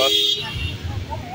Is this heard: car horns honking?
yes